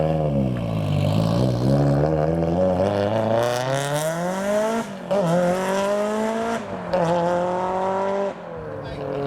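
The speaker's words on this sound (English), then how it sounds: "Oh, this Evo sounds quality." A lowered Mitsubishi Evo pulls away from a car show. Its engine note climbs and falls through loud, close revving sweeps as it accelerates, and the strained, droning tone carries all the way through.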